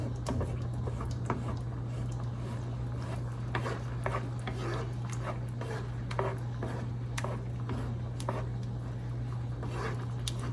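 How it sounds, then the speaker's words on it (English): A chicken piccata mixture is stirred in a pan, a soft, continuous scraping and rubbing with faint irregular clicks of the utensil, close but quiet beneath a steady low electrical hum. "Stir this up. Get it nice and incorporated."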